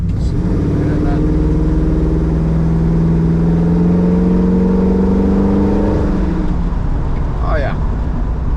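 A 1973 Ford Mustang Mach 1 with a Cleveland 351 engine accelerates loudly from inside, its steady rising drone building for several seconds before easing off at a gear shift, with the engine rumble continuing under it.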